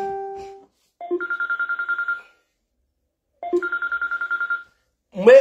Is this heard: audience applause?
no